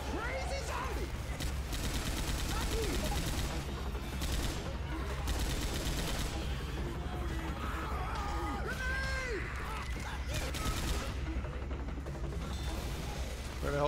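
Continuous rapid gunfire in a zombie shooter video game, bursts of automatic shots mixed with shouting voices and frantic game sounds throughout.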